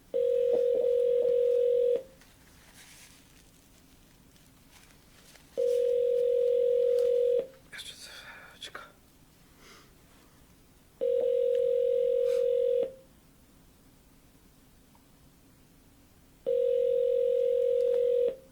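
A telephone tone sounds in four long, steady beeps of about two seconds each, spaced by roughly three-second gaps while a number is being called, with faint background noise and brief clatter between them.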